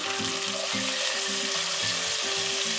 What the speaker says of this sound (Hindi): 2 से 3 मिनट फ्राई करने के बाद इसमें मैं प्याज ऐड करूँगी